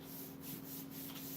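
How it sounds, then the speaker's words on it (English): Sandpaper of 240 grit rubs steadily in a soft, continuous hiss, with faint rhythmic surges from the back-and-forth strokes. "240 grit's a good grit to stop on for this kind of stuff"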